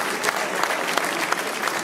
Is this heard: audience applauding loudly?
yes